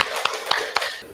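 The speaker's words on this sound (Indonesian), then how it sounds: "Oke, tepuk tangan." Children clapping together in a classroom, three sharp, evenly spaced claps in quick succession, loud and close.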